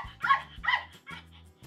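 A dog barks from a Google Assistant smart speaker, three short yapping barks in a row, clear and close, with a small whimpering tail at the end.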